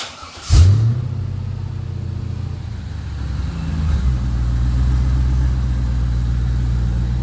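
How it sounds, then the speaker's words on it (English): A Pontiac engine with its catalytic converters removed from the rebuilt exhaust cranks and catches, then settles into a steady, loud, close idle with a low rumble that swells slightly partway through. "Let's try it. Let's start it up."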